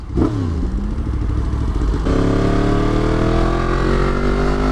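Yamaha MT10 motorcycle engine running close by, loud and steady, with a brief rev that climbs and then settles into a sustained, layered engine drone.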